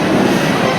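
Train at Jhansi junction, a loud, steady rumble of rolling railcars heard up close, with a continuous dense roar throughout.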